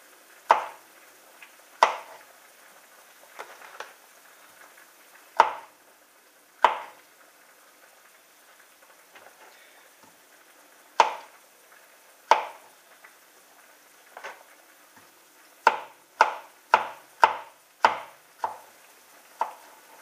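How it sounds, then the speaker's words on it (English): A knife chops food on a board in sharp, scattered strikes, then speeds into a quick run of chops near the end. No one speaks. "we're just going to slice."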